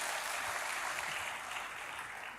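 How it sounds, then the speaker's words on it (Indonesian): A church congregation applauding, a dense, even wash of many hands clapping together, continuous and fairly loud throughout. "Berikan tepuk tangan dulu bagi Tuhan."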